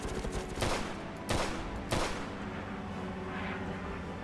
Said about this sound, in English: I have no idea who's fucking shooting at me here